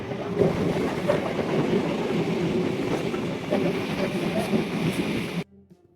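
A local train pulls out of Bhayna station on the Bhayna to Ranaghat line, heard from the open doorway as a loud, steady rumble with rhythmic wheel clatter before it cuts off abruptly.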